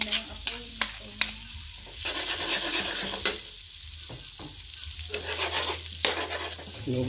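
Butter melts and sizzles in a pan for buttered shrimp, a close, steady frying hiss broken by repeated scraping stirs and clanks.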